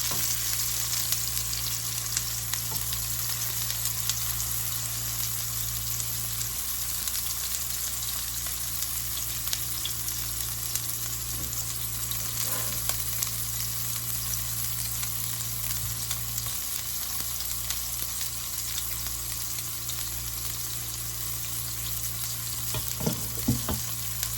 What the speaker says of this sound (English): Now what you want to do is brown both sides before you put it in the oven at 400 degrees.